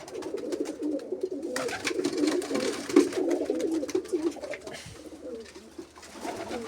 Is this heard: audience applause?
no